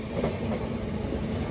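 A train rolls past nearby with a continuous heavy rumble and rattle of rail cars on the track, loud and steady the whole time and free of talk.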